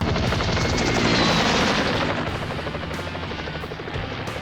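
Helicopter sequence from the 1983 anime film Golgo 13: The Professional, with a loud, dense rotor chatter and mechanical roar mixed with rapid gunfire-like bursts throughout, easing slightly toward the end.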